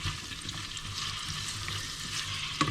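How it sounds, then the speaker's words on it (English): Onions sizzle and fry steadily in a pan on a stove turned down to medium-low, a continuous close crackle with a faint stir or clink near the end. "onions are sizzling."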